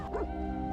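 A dog gives a single short, fairly distant bark over a steady background hum outdoors in the countryside.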